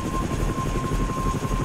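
Helicopter flying in the ARMA 3 military game, a loud, continuous rotor and turbine drone with a steady pulsing beat and a faint high tone, with no speech.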